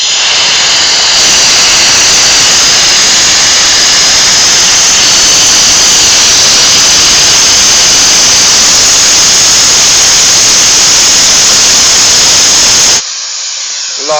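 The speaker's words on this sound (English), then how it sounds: "Large amounts of steam coming out." Steam blasting from a steam locomotive boiler through an open clack valve, a very loud, continuous roaring hiss held for most of the stretch before cutting off abruptly near the end.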